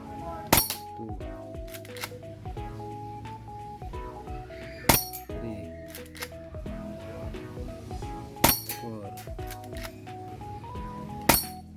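BB gun pellets strike a thick gin bottle that does not break, giving sharp glassy clinks every few seconds over a steady background hum of ringing tones.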